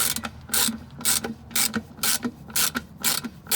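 A ratchet wrench tightens the transmission pan bolts on a 2.5-litre Toyota RAV4. About eight quick, crisp ratcheting bursts repeat in a steady back-and-forth rhythm, close up and clear with no talking.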